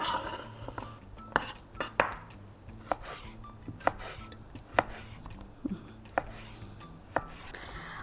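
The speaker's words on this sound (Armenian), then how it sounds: "որպես շատ բարակ կտրատենք" A knife slices vegetables thinly on a board for a chicken-and-vegetable dish, with crisp, moderately quiet cuts landing roughly once a second, mixed with faint clinks of dishes and utensils.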